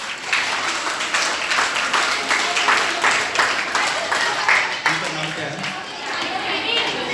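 Schoolgirls at a government senior secondary school clap together in a burst of applause, fairly loud and sustained, with voices and chatter mixed in.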